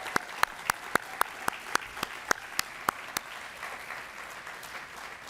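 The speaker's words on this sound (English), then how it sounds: "So how about a warm applause for Anna Pushkin-Shevlin?" Hands clap at an event for a climate and community summit speaker, a dozen or so sharp, evenly spaced claps in quick rhythm that stop after about three seconds, leaving a quiet room tone.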